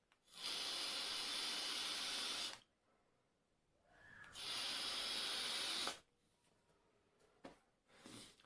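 Two long exhaled vapour plumes from a Vaporesso Swag 2 kit run at 55 watts with a 0.18 ohm coil and the airflow fully open, each a steady breathy hiss lasting a couple of seconds, close and fairly loud, separated by quiet pauses with faint clicks.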